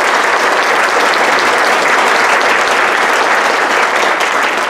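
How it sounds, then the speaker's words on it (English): Applause at a college fall kickoff gathering recognizing a staff group, with dense, loud, close clapping from a large audience sustained evenly across the whole clip. "If we could give them a big round of applause."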